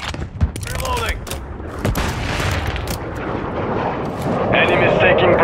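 Gunfire rings out in a Modern Warfare 3 multiplayer match: sharp shots and bursts over a loud, rumbling battle bed, with in-game radio voices speaking over the action.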